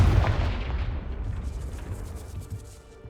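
A Confringo blast spell explodes in Hogwarts Legacy, one heavy boom with a rumbling tail that fades over about three seconds, loud and alone.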